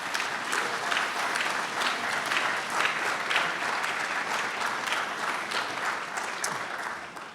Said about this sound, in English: I want the students to give your folks a big round of applause